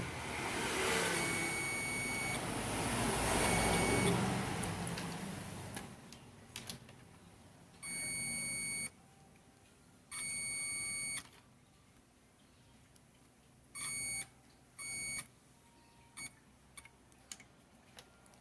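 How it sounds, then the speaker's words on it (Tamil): Multimeter continuity test on a shorted motherboard, giving a series of steady electronic beeps of varying length, some long and some short clipped chirps, after an opening stretch of louder rustling handling noise. "எல்லாமே பீப் தான் காட்டுது"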